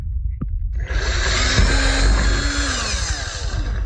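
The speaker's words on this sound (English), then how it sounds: "Drill some holes." A power drill whirs steadily into wood through a pilot hole, its motor pitch shifting as the bit bites, loud and close after a brief click at the start.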